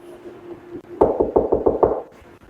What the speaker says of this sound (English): Can you knock on the wall like this?